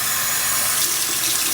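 Warm water pours steadily from a kitchen tap into a soapy coffee pot, a loud, continuous splashing hiss with no voices.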